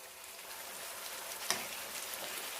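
A pickle mixture frying over high heat in a pan, giving a steady close hiss and sizzle with a single brief scrape or clink from stirring partway through.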